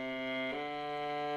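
A viola slurs notes smoothly on a single bow stroke, the tone sustained and connected with one shift in pitch midway, close and clean with no talking.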